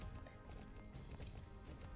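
A horse in the Star Stable video game, with soft rhythmic hoof clip-clops running throughout at low volume, though no distinct whinny stands out.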